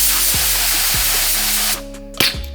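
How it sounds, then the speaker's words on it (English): A paint spray gun hissing through a test spray while an engine bay is being painted, a steady loud hiss that cuts off partway, followed by brief clicks and a short burst. "just test out, see if the fan's spraying alright"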